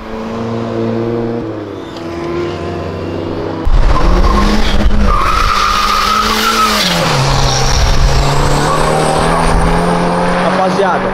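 A 350 hp Ford Versailles skids sideways with its tires squealing as its engine revs hard, loud and close, after a lower steady engine drone at the start.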